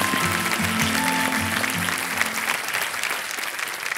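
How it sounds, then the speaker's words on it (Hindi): Studio audience applause on the Kaun Banega Crorepati game show set, loud continuous clapping with a low musical tone underneath in the first half, then clapping alone. "तालियां बज जाए इनके लिए एक बार।"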